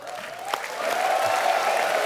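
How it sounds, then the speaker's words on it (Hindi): Studio audience applause for a guest on a televised comedy show, a full, steady wash of clapping that swells slightly and holds, with a faint sustained tone beneath. "सुनील पाजी के लिए जोरदार तालियां।"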